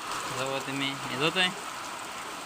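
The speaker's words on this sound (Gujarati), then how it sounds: "બહુ જ વરસાદ છે." Heavy rain in Sakhodar after dark keeps up a soft, steady patter under someone speaking close by.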